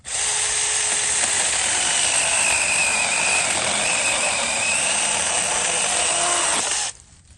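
A mini chainsaw cutting firewood gives a steady, loud, high-pitched buzzing whine that holds for about seven seconds before cutting off abruptly, with no speech.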